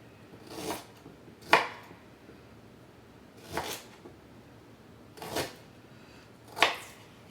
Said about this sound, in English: going to cut up the turmeric and the ginger and the garlic a little bit so that it fits nicely in the Omega juicer